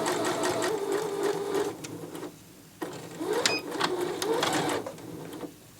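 A Necchi HP04 sewing machine stitches a scarf in several close bursts of rapid needle clatter, separated by short pauses.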